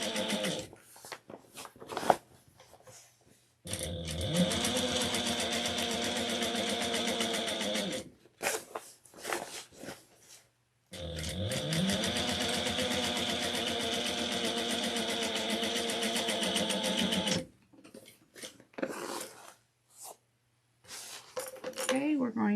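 A sewing machine top-stitches a handmade tote bag turned inside out, heard in two long steady whirring runs of several seconds each. Shorter clicks and handling noises come between the runs.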